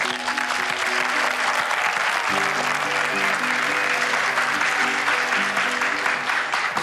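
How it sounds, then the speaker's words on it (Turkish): Loud, sustained audience applause welcoming a guest onto a stage, continuous dense clapping with a musical tone running underneath throughout. "İpek Boran'a koskocaman bir alkış istiyorum."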